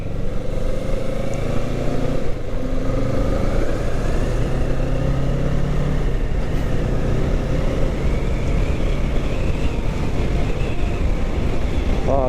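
A Kawasaki Ninja 650 rides from Mae Taeng toward Bua Tong waterfall in Chiang Mai, its steady engine drone mixed with heavy wind rush over the microphone, continuous and loud for the whole stretch without talk.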